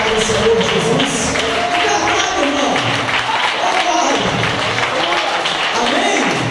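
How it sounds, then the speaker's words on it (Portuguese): Congregation in a church service claps in praise, a rhythmic, fairly loud clapping with crowd noise and some voices mixed in throughout. "Bota palmas para o Senhor Jesus."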